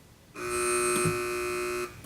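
A single steady electronic quiz buzzer tone at a high school quiz match, loud and close, holding for about a second and a half before cutting off, with no talking.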